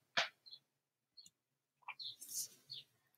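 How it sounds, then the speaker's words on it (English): Birds calling in an African savanna, perched high in a tree near lions at a kill: a few short, faint chirps and thin calls, scattered and quiet, with no talking. "I can see and hear birds that are waiting for the lions to finish eating"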